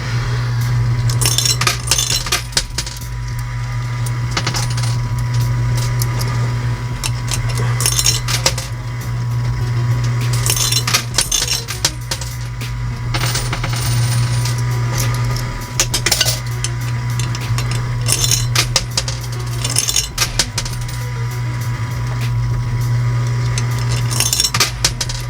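Metal coins dropping and clinking inside a Fallen Phantoms coin pusher arcade machine, a near, continuous jangle of tokens over a steady mechanical hum, with bursts of clattering cascades and no talking.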